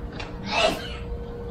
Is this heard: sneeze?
yes